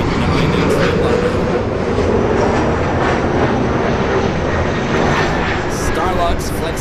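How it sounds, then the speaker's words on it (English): A United Airlines Boeing 787-9 Dreamliner, a heavy widebody arriving from Hong Kong, passes at LAX with a loud, steady broadband jet roar that holds throughout, with faint voices in the background. "United Airlines Flight 802 coming from Hong Kong. 787-9 in Dreamliner."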